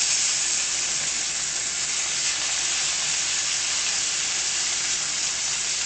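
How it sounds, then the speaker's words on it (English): Filet steak searing in a hot pan, a steady close hiss and sizzle that holds evenly throughout with no talking. "Now we're going to add the filet."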